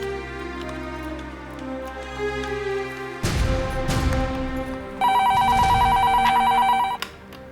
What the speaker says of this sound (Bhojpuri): आनंद के फोन लगा के देखा तानी।